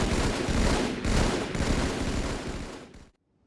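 Loud continuous rapid gunfire in Halo 2 machinima, dense overlapping shots filling the whole clip before cutting abruptly to silence.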